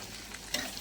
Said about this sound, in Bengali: এবার পেঁয়াজ দেব। পেঁয়াজটা একটু লাল লাল হলে